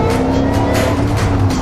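Supercharged 5.4-liter V8 of a 2008 Ford Mustang Shelby GT500 droning loudly and steadily at speed, a sustained high-revving roar with constant road and wind noise underneath.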